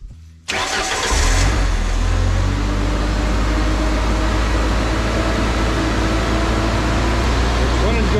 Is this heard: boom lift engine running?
yes